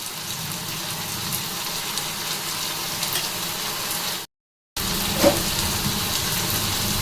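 Turmeric, chilli, ginger, garlic, onion and cumin fry in oil in a pan and are stirred, a steady crackling sizzle with a brief cut of silence before it resumes.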